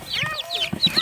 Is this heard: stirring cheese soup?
no